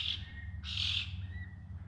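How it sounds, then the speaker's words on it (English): A crow in the bush gives an unusual call, two short bright cries with a longer one in the middle, heard at moderate distance over a low steady background hum. "I've never heard a crow make that noise before."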